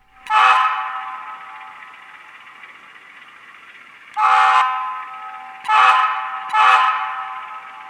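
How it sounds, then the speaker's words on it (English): A Bachmann RS-3 model locomotive's TCS sound decoder sounds short horn blasts over a constant idling engine drone, one blast, a pause, then two more in quick succession, fairly loud and close. "Short horn."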